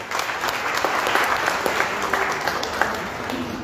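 An audience claps at the 61st charter anniversary of the Lions Club of Calcutta North, a full, sustained round of applause with sharp hand claps scattered through a continuous crowd roar.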